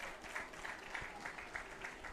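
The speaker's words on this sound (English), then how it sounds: "Gets applause from the Wizard faithful." A crowd claps steadily at a high school baseball game between WWHS and Juanita Sanchez, greeting a pitcher leaving the field; sustained, moderately distant applause with no talk over it.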